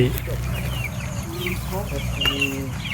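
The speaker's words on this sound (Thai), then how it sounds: "ไก่สามสาย นี่ก็จะเป็นไก่" Three-breed chickens on a Thai farm clucking and squawking nearby, several short overlapping calls over a low background hum.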